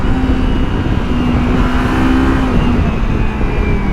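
A Kawasaki X 300 motorcycle engine revs hard past 5000 RPM, a loud, continuous, buzzing drone with rising and falling pitch under heavy wind and riding noise.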